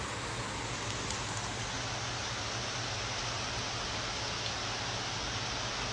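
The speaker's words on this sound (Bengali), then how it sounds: "প্রচুর পরিমাণ বৃষ্টি হইতেছে।" A steady, dense hiss of heavy rain pours down without pause, broad and even, with a faint low hum beneath and no voices.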